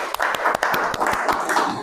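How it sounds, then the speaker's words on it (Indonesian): A school class claps hands together, a quick run of sharp, overlapping claps at close range with no voices. "Ya, tepuk tangan."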